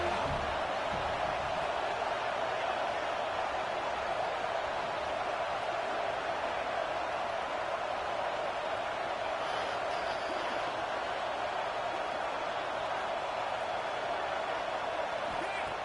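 A large football stadium crowd roars on third down in a Nebraska versus USC matchup, a broad sustained wall of cheering noise at steady loudness for about sixteen seconds, with a commentator's voice over it.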